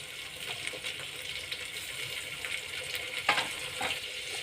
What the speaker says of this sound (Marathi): आता आपण यात उभा कट केलेला टोमॅटो टाकतोय आहे टोमॅटोही छान गाळ होऊ द्यायचा आहे